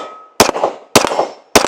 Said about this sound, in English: I know you all want to see it shot without a suppressor on it